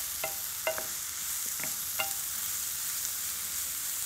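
Mushrooms frying in a generous amount of oil in a pan, a steady soft sizzle with a few sharp clicks of stirring utensils against the pan, no voices.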